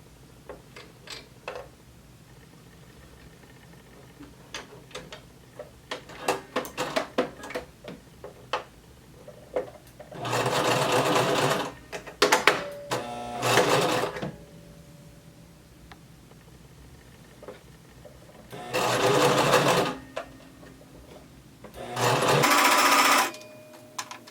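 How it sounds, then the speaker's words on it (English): Sewing machine stitching a seam on a maxi skirt with a half-inch seam allowance, four rapid mechanical bursts of a few seconds each, separated by quieter ticking and handling noises, close and with no talk. "now we are going to sew down until we get to this pin"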